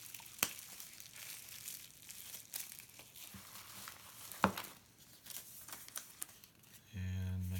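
Bubble wrap around three packaged bottles is handled and unrolled, giving soft, scattered crinkling and occasional sharp crackles and pops. The sounds are quiet and close, and a brief steady hum comes in at the end.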